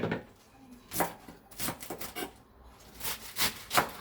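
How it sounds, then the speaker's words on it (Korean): Knife chopping garlic chives (buchu) into short pieces on a cutting board, a run of crisp irregular chops close by at moderate volume. "부추를 한 3cm 정도 썰어가지고"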